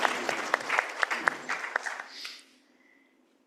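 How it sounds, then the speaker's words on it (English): Symposium audience applauding its speakers: a short round of fairly quiet clapping with a few sharper individual claps, tapering off after about two and a half seconds into near silence. "Let's have another round of applause for all our speakers."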